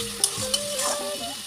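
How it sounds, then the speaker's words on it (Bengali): Fried potatoes are stirred into a curry and sautéed in oil in a pan. A steady, close sizzle runs under a few sharp scraping stirs. "তো আলু দেওয়ার পর দেখো ভালোভাবে আমি কষিয়ে নিচ্ছি।"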